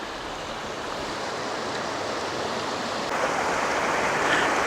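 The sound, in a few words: creek flowing down from Catawba Falls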